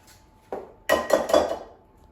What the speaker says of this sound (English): I'm going to crack 2 eggs in a bowl